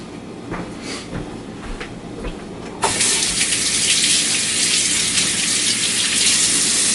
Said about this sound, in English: I'll give my hands a quick wash